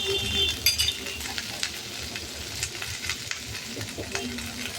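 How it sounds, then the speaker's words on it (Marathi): Carrots, capsicum, peas and peanuts are sautéed in a pan. Soft, steady frying sounds come with intermittent scrapes and light clinks of a spoon against the pan, and an early burst is a little louder. "गाजर हे असं आपण छान परतून घेणार. वाटाणा पण घालायचे आणि शेंगदाणे पण घालायचे"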